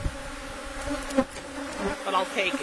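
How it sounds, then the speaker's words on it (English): Honey bees buzz around an open hive during an inspection, a close, continuous hum with someone speaking briefly over it. "Bees on the top bars all the way across the hive."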